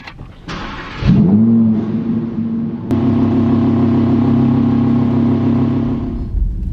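A new rear-wheel-drive Audi R8 fires up with a sharp starter whir, flares into a loud rev, then settles into a steady, throaty idle with a second blip partway through, close and alone.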